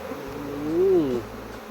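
A swarm of wild bees streams into a tree hollow, giving a steady droning buzz that swells to a louder, rising-and-falling hum near the middle before easing back, with no talking.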